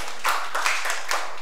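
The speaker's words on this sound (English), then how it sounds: "Clap for yourselves." A conference audience claps for itself in a hall, three short bursts of clapping close together, each fading quickly, fairly soft and without voices.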